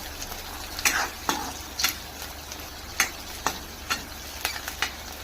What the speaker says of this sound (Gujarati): આ મરચાંને નાખી હું મિક્સ કરી દઈશ